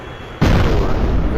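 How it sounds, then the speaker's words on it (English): Tank and mortar fire in the video game Plastic Battlegrounds hits as a sudden loud, broad rumbling blast that stays dense and sustained to the end, with no talking. "It seems the tanks and the mortars are dealing with the mass"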